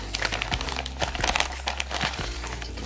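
Plastic wrapping on a parcel of Ukrainian National Bank coins crinkles and rustles close by, with sharp repeated crackles and a low steady hum underneath.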